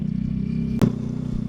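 A borrowed motorbike rides along in Calatagan, Batangas, its engine droning low and steady, broken by one sharp clunk or thud midway, then the hum carries on.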